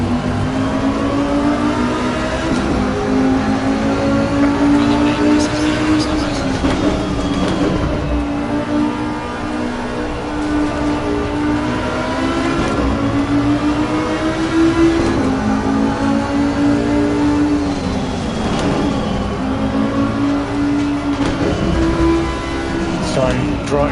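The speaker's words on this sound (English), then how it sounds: "I'm just trying to get my clean laps in on different tracks on the Assetto Corsa competizione" A race car in Assetto Corsa Competizione lapping a track, engine droning loudly and continuously as revs rise and fall through corners and gear changes, with a voice talking over it throughout.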